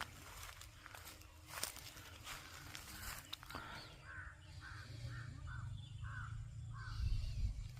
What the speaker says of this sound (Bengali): পাখির কুজন শোনা যাচ্ছে।